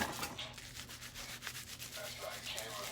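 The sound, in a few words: rubbing slime to remove styrofoam balls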